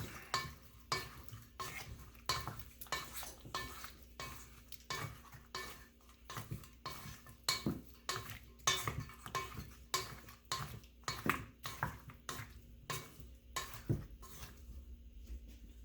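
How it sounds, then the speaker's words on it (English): Riblets being stirred in a pan, with repeated sharp scrapes and clatters of a utensil against the pan in an uneven rhythm over a faint background sizzle, close and fairly quiet, no talking. "Stir them up."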